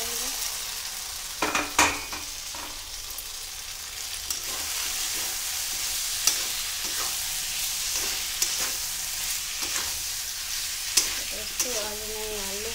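Potatoes frying in a pan, a steady loud sizzle with repeated spatula scrapes and stirring clatters spaced through, a short vocal sound near the end.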